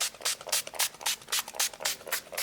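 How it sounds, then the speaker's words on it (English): Repeated bursts from a spray bottle misting water over a doll's hair, about nine quick hissing sprays in a steady rhythm, close and fairly loud with no talking. "I spray it with water"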